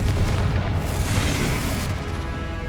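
A Confringo blasting spell detonates in the wizarding game Hogwarts Legacy, a loud booming explosion with dense rumbling that fills the whole moment and fades slightly toward the end.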